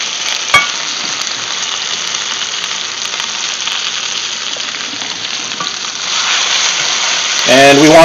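Pasta with black pepper in a frying pan giving a loud, continuous hiss of oil and grease, with stirring scrapes close up and a brief clatter near the end.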